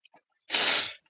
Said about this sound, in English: Having to sneeze, having to take a break.